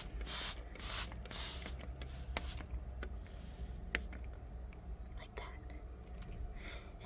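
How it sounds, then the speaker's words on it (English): Several short hissing spray bursts from a hand pump bottle misting houseplants, close and quiet, spaced irregularly against a soft background. "And then I take this spray bottle right here, and I just mist them."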